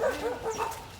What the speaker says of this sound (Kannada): ನಾಯಿ ಆಡು ಬೊಗಳುತ್ತಾ ಇದೆ